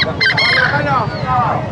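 A rooster crows close by at a pet market in Bocaue, one long rising-and-falling call, over a low background murmur.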